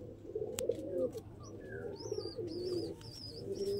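A ten-year-old male pigeon coos softly in a loft, low repeated throaty calls alongside faint chirps and a sharp click, no voices.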